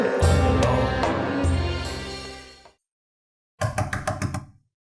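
A sharp run of knocks raps on a door in a Pakistani drama scene, a burst of about six quick, loud, close blows following a stretch of dramatic music that fades out into silence.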